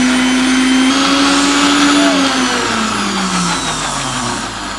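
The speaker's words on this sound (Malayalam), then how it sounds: "നമുക്ക് എന്തായാലും മിക്സി അടിക്കാനുള്ള പരിപാടി നോക്കാം." A kitchen mixer grinder blends a shake in a locked jar, a loud continuous motor whine with a slowly drifting pitch that runs steadily through the whole stretch with no talk.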